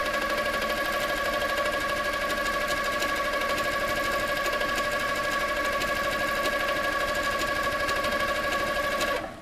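A Handi Quilter Sweet Sixteen sit-down quilting machine stitches steadily for about nine seconds, its fast needle chatter and whirring motor hum running continuously and fairly close before stopping abruptly at the end.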